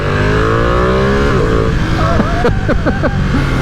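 Ducati Panigale V2 sports bike roaring loud and close, its engine and airbox bellowing through sustained high revs, with rising and falling pitch sweeps near the end as the throttle blips through gears.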